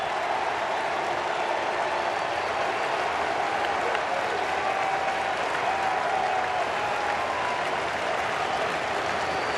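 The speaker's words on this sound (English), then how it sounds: "let's just listen into the crowd as they once again salute Kyle Seager" Sustained applause and cheering from a baseball stadium crowd at a Seattle Mariners home game against the Los Angeles Angels, saluting Kyle Seager, a dense, steady roar lasting throughout with no speech.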